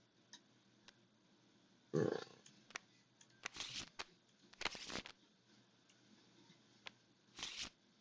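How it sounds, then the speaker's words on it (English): A deck of cards is shuffled during a Smash Up card game session, with several short crisp riffle and shuffle bursts separated by quiet pauses, close and moderately loud. "now we've shuffled the deck"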